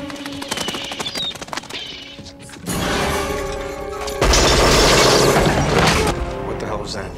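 Gunfire erupts at a warehouse in the action film Eraser, sharp mechanical clatter and booming bursts building into loud, dense sustained fire with shattering debris, mixed with film sound effects.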